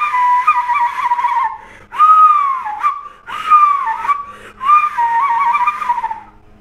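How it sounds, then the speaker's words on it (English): Four bird-like whistling phrases from a trombone mouthpiece, each warbling and sliding in pitch, separated by short pauses, close and clear. "fun bird-like whistling sounds with the mouthpiece"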